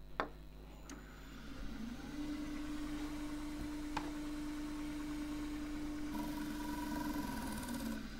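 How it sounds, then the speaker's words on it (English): A wood lathe with an oil-soaked eucalypt burl blank hums up to speed, settling into a steady, quiet motor drone with a faint high whine and a couple of sharp clicks. "when I switch the lathe on, centrifugal force will spin it out of the cavities"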